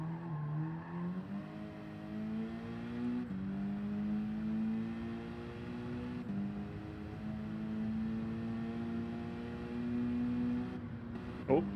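A Mazda 3 engine in Gran Turismo 7 drones at high revs against the rev limiter, a steady buzzing harmonic whine that shifts pitch slightly in small steps and stays fairly close and constant throughout.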